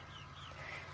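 Barred Rock roosters and hens in a coop murmur and cluck softly together, a continuous low flock chatter with faint higher calls mixed in, brief and steady.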